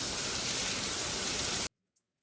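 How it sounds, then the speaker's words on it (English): Rain falls steadily during a thunderstorm, a dense, even hiss of drops close by that stops abruptly after a second and a half, leaving near silence. "The rain is probably not going to let up"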